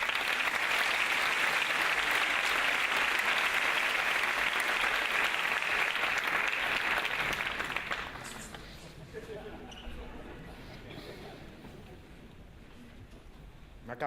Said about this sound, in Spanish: Un aplauso para Sergio Palacios.